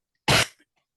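A single sharp sneeze bursts out close to the listener, lasting about a quarter second before trailing off into silence.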